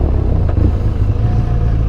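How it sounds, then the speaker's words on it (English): A scrambler motorcycle with an aftermarket Akrapovič exhaust idles with a loud, steady, deep rumbling burble close by, no voices present. "the acro exhaust in this thing comes with it. Sounds phenomenal."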